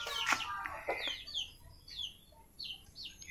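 A kolibri wulung, a small sunbird, calls in short, high, thin chirps and descending twitters, repeated several times at moderate volume with a few brief harsher notes near the start.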